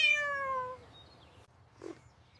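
A single cat gives a clear, close meow that falls in pitch and fades, followed by a faint short vocal sound over quiet background hum.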